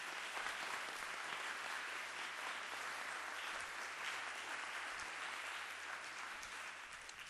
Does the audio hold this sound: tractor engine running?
no